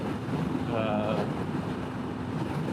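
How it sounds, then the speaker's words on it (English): Steady, loud wind roar buffeting a rider on a Honda CB500F motorcycle on a Saturday morning ride, a continuous rushing noise over the microphone with a faint voice underneath. "It is windy. I'm getting boxed around pretty good by the wind"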